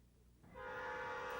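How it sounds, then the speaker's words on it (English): A silver and blue Amtrak train passes through downtown Montgomery: a low rumble swells after a quiet start, then a loud, steady horn tone holds over the rolling wheel noise to the end. "you might have noticed the silver and blue train streaking through the capital city."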